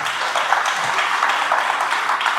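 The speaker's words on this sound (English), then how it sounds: "Let's give a clap to our administration." Steady applause from a ceremony crowd at a Kenyan Jamhuri Day celebration in Seattle, a dense wash of clapping hands that holds evenly throughout.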